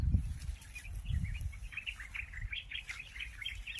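Small birds chirp and tweet repeatedly at moderate volume, in short high bursts scattered through a steady outdoor background. Brief low rumbles come and go beneath them.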